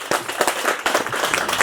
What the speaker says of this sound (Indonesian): Tepuk tangan untuk Bapak Haji Zulfian.